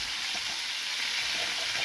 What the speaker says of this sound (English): I'm going to add the onion now. Okay, so this is the red onion that we cut up.